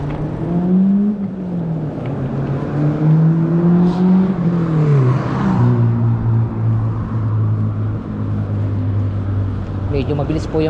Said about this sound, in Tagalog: Medyo mabilis po yung mga sasakyan.